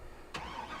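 A truck engine in the Farming Simulator 22 video game turns over with a short, sharp burst, then settles into a steady, quiet idle. Nobody speaks.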